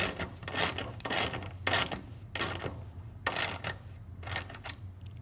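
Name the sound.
tightening the 8mm bolt on a Saab 9-5 headlight assembly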